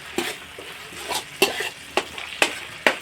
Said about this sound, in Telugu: ఆనియన్తో పాటు అల్లం వెల్లుల్లి పేస్ట్ కూడా బాగా ఫ్రై అవ్వాలి.